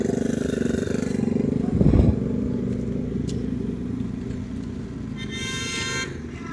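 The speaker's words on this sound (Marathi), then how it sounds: "असं भरधाव वेगामध्ये हे वाहन आलेलं आहे पहा" Vehicle speeding along a road, a loud, steady engine roar close by with a brief louder rush and clatter, followed by a faint high tooting tone near the end.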